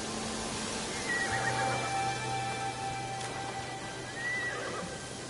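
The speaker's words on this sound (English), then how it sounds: "This horse has seen better days" A horse in a video game whinnies twice across a few seconds, mid-distance, with faint hoof clops and a steady low hum beneath.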